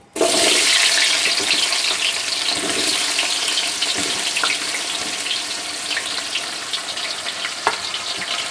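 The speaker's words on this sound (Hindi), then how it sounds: "अब मैं इसके अंदर प्याज शामिल करूँगी। ऑयल हमारा अच्छे से गर्म हो गया है," Chopped onions hit well-heated oil in a pan for chicken yakhni pulao, setting off a loud, steady sizzle and crackle that holds throughout, with a few stirring knocks.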